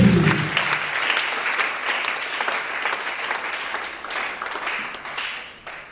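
A church congregation breaks into loud, sustained applause during a praise moment, dense clapping that swells at first and then slowly tapers off.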